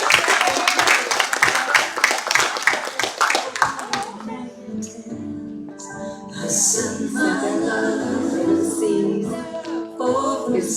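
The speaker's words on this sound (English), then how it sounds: "Let's give her a round of applause" A congregation claps for Reverend Mary at a Mother's Day church gathering: dense, rhythmic clapping for about four seconds, then it gives way to soft music and room noise.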